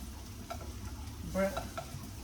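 Plantains frying in a pan give a quiet, steady sizzle with a few faint stirring or turning clicks, and no one speaks over it.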